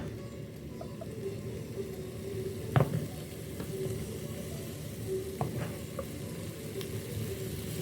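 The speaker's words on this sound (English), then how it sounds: "we're going to add some tomatoes and onions that Chef Arnold has already chopped for us" Tomatoes and onions sizzling in a pan in an Indian cooking demonstration, a soft steady frying hiss under a low background hum, with a few clinks and stirring knocks.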